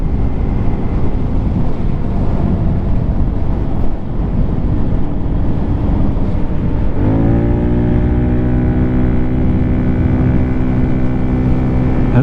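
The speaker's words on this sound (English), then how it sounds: "it was a dirt bike of some sort" A dirt bike rides past at night, a loud, continuous engine roar with wind buffeting the microphone, its pitch steadying into a strong humming drone partway through as it passes close.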